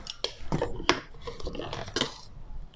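Spoon cutting through softly whipped cream for tiramisu, giving a few light clinks and soft scraping touches against the bowl, close and moderately loud.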